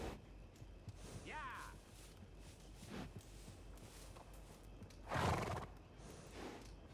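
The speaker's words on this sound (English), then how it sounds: "Good-looking horse there." A horse in the video game Red Dead Redemption 2 whinnies with a rising, wavering call, followed by a few hoof clops and a snort over quiet background noise.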